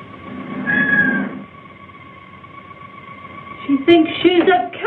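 A woman imitates a cat with drawn-out meows in a 1964 horror film, one long wavering cry followed after a pause by several shorter, close mews.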